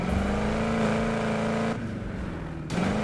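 Engine note of a 1932 Ford car in the Need for Speed racing game, a steady droning hum that holds level, dips and quiets briefly near the end, then swells back up.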